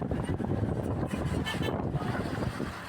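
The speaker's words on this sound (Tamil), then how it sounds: "இந்த போட்டு தான் எடுத்துகிட்டு வருது அந்த ஷிப்பை" Near Pamban bridge, a boat tows a ship. A steady low engine rumble runs throughout, with heavy wind buffeting the microphone outdoors over open water.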